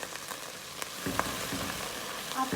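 Garlic sizzles in a pan as carrot, corn and capsicum go in, a steady mid-level frying hiss with a few soft stirring scrapes and clinks, no voices.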